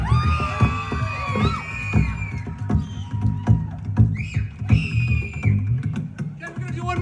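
A festival crowd at the SLC Samhain Festival cheers, whoops and yells for a competitor, with loud shrill whistles and screams rising and falling over a continuous roar, close and lively, with voices shouting throughout.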